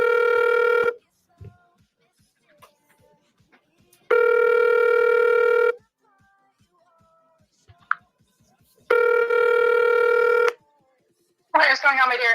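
Ringback tone of an outgoing phone call, three long, loud ring bursts spaced evenly with quiet gaps between them, followed by a brief clipped sound at the end.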